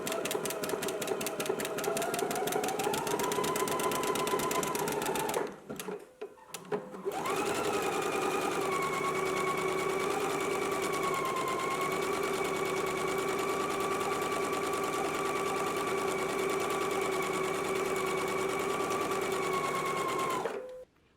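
A home sewing machine runs gathering stitches along the seam allowance of fabric ruffles for a McCall's 8354 garment. It whirs steadily and close up, pauses briefly partway through, then hums on evenly with no talking.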